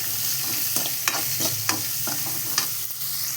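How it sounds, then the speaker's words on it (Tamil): Ingredients sautéing in a pan for potato podimas until reddened, a steady close sizzle broken by several sharp scrapes and clinks of a stirring spoon against the pan, no talking. "இதெல்லாம் போட்டு நல்லா வதக்கணும். சிவப்பாக வதக்கணும்."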